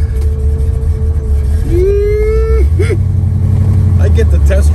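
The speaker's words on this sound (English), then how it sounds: "I get to test drive this 502 Camaro" Deep rumble of a 1969 Chevrolet Camaro with a 502 V8 driving, a loud continuous low engine drone with a brief rising tone and voices talking over it.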